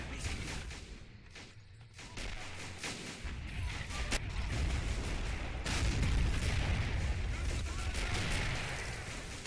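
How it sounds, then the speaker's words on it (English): A tank explodes during a WWII-style beach assault, a heavy rumbling boom amid scattered distant gunfire and artillery, with dense battle noise swelling and holding low and loud throughout. "Another tank exploded over there"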